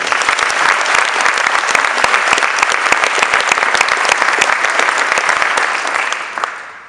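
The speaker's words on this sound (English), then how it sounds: "they really deserve a big round of applause for that" Warm, dense applause fills a hall at a girls' high school basketball team celebration, many hands clapping steadily and close for several seconds before tapering off at the end.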